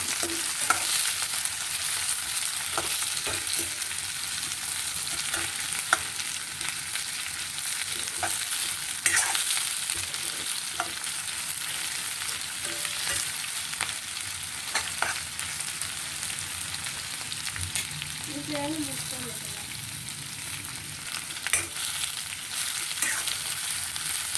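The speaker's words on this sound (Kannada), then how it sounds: "ಇದೆಲ್ಲ ಚೆನ್ನಾಗಿ ಬೇಯಲಿ ಎಣ್ಣೆಯಲ್ಲಿ" Ingredients for Totapuri raw mango chitranna frying in oil, giving a continuous close sizzle with scattered clicks and scrapes of stirring throughout.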